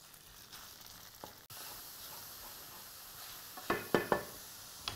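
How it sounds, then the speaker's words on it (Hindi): Minced meat with chopped garlic sizzles in a pan, a steady soft hiss throughout with a sudden louder burst partway, followed later by a few sharp scraping stirs of a utensil against the pan. "थोड़ा सा भूनने के बाद इसमें कीमा डाल लेते हैं"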